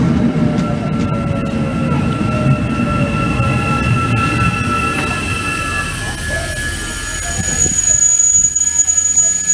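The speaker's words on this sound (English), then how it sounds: "the train that I'm just about to get on" A passenger train in Wellington, New Zealand rumbles past loudly and close, with a continuous roar of wheels on rails and drawn-out squeals and whines from the wheels, and no speech over it.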